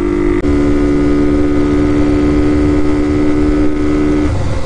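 A Honda Elite 150 scooter fitted with a Hellcat Raptor 125cc setup and modified carbs and intakes runs flat out downhill, a steady high-pitched engine drone with wind noise throughout, close and loud.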